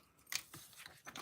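Scissors cutting a piece of vellum paper for a card, a short crisp snip or two close by, with no talk.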